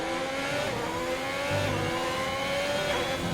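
A race car engine in a sim racing game, British track, revs and drones steadily at mid pitch, slightly rising, heard fairly clearly without talk.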